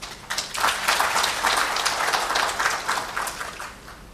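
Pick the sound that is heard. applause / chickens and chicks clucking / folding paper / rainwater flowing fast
applause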